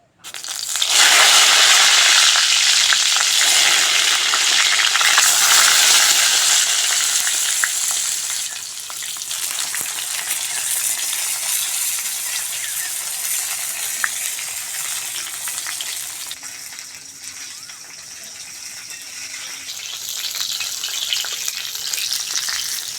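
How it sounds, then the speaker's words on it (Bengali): Eggplant pieces frying in hot mustard oil in a wok for Bengali baingan curry, a loud hissing sizzle at first that settles into a steady, softer crackle, with faint stirring noises and no talk. "কড়ার মধ্যে সর্ষের তেল দিয়ে দেবো তেল ভালোভাবে গরম হয়ে গেছে এবার বেগুনগুলো ভেজে নেবো"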